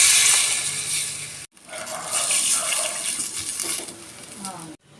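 Water runs steadily while lunch is being cooked, a loud rushing stream that cuts off briefly twice, with a voice heard faintly alongside.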